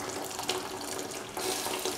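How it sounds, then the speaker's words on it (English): Tamarind water pours in a steady splashing stream into a pot of toor dal and bitter gourd mixture, close and continuous for about two seconds, briefly growing louder near the end. "Pour the tamarind water into"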